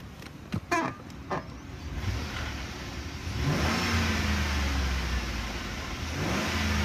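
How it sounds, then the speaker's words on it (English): A few clicks and knocks come first, then a 2008 Chevrolet Tahoe LTZ engine with its check engine light on starts up and runs with a steady mid-pitched hum, revving slightly. "Let's listen to the motor"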